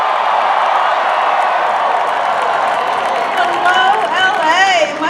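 A large outdoor rally crowd of thousands cheers, claps and whoops loudly and continuously, with higher shouts and whistles rising toward the end and a voice over the roar.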